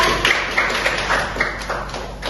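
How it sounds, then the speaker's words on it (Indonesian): Classmates in a university peer-teaching session applaud a student: a short run of uneven, moderately loud clapping over a steady room background, with no talk over it. "Beri tepuk tangan untuk Tasya."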